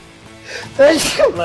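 Someone sneezes once or twice in a garage during an inspection of a Mini Cooper S; the bursts are loud and close, with voiced, breathy tails.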